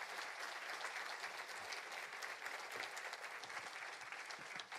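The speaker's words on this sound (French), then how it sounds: "Applaudissements pour Bruno Parmentier et cette excellente présentation." An audience at an agriculture lecture applauds after a presentation, dense steady clapping from a full room, moderately distant and sustained throughout.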